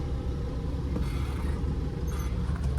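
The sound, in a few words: van driving into a museum parking lot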